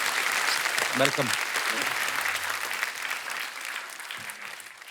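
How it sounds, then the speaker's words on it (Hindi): Studio audience applause on a TV comedy show, loud and sustained crowd clapping with someone briefly speaking a greeting over it near the start. "जोरदार तालियां हो जाए।"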